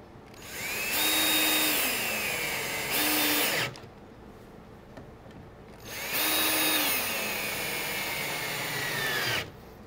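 A cordless power drill drives screws into a wooden high deck chair during assembly. There are two close, loud whirring runs of about three seconds each, with the motor pitch steady and then dropping, separated by a brief quiet pause.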